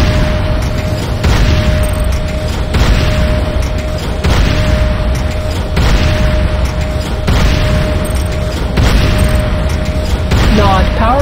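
A Nod Tiberium refinery blows up in Command & Conquer Renegade, with loud repeated booms and blasts rolling through the whole stretch under a steady tone, and a voice announcing over it.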